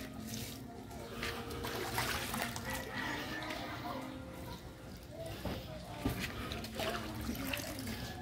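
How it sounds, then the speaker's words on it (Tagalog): Water from a river splashes and trickles steadily onto a vegetable garden as plants are watered outdoors. It is a continuous, moderately loud wash. "Kaya, dinidilig ko na sa aking mga gulay."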